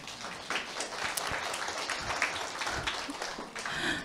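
Seminar audience claps together in a steady, moderately loud burst, a room full of hands blending into continuous applause for a few seconds.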